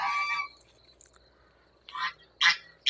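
Geese on a Thai garden farm give a few loud honks in separate bursts, with quieter gaps between the calls.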